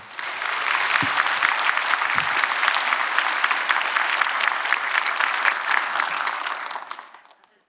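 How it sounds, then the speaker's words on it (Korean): A congregation at a 2018 Seoul healing revival service breaks into warm, dense applause for the arriving pastor, steady and full for about seven seconds before tapering off to silence. "목사님을 환영하는 마음으로 뜨거운 박수로 모시겠습니다."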